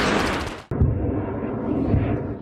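A loud blast from rocket fire and Iron Dome interceptions over Israel: a sharp crack cuts off a dense roar, followed by a deep rumbling boom that rolls on and swells again.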